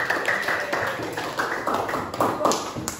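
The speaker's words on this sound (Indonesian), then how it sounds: "Tepuk tangan dulu." A classroom audience clapping together, a dense run of quick, close hand claps lasting a few seconds at moderate loudness.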